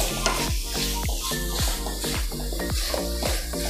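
Mawa (khoa) being stirred and mixed in a hot pan while making milk barfi, with a steady sizzle and a regular series of scraping strokes about twice a second, close and fairly loud.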